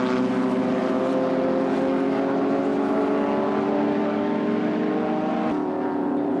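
Historic racing cars, among them a Jaguar XK120, run past on a club circuit, their engines a sustained, loud roar that thins a little toward the end as the cars pull away.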